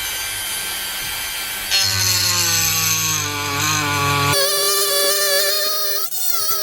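Power tool slitting the end of a Mazda RX8 propshaft, a loud, sustained whining cut whose pitch shifts and strains partway through, then settles into a steadier, higher-pitched tone with no talk.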